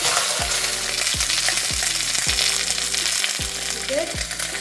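Pork sizzles steadily in a hot pan with green onion, dense frying hiss throughout, broken by several stirring strokes of a spatula scraping the pan at a regular pace.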